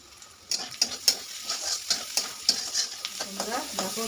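Onions fry in a pan for a Bengali kharkol bata recipe under a steady sizzle, while a spatula scrapes and knocks against the pan in quick, rhythmic strokes close by.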